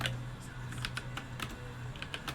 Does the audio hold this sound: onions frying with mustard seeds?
no